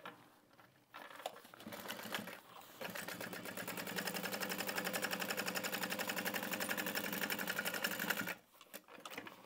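A sewing machine stitches closed the turn hole of a tote bag. A short start and stop comes first, then a fast, steady mechanical chatter for several seconds before it halts, close and fairly quiet.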